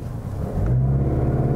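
A 2019 Mazda 3 AWD in sport mode with traction control off is brake torqued, its engine rumbling up and then holding a loud, steady low drone near 2000 RPM, close by and with no talking.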